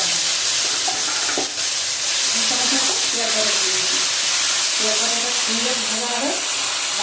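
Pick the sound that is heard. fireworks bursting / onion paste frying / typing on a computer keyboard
onion paste frying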